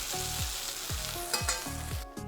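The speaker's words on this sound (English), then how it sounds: "We want just a little bit of a nice sear so that you have a nice crust around your meatballs" Meatballs sear in a hot pan with a steady, loud sizzle and crackle, and a few soft spoon or pan contacts mark a loose rhythm. No one speaks.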